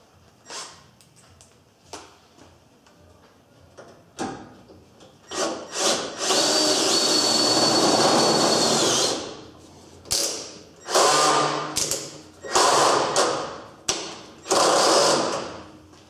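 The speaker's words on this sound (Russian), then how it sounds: "Проще взять шуруповерт." A cordless screwdriver driving a self-tapping screw during car welding work on a Lada Priora, heard as short whirring motor bursts, then longer high-pitched runs with pauses in between.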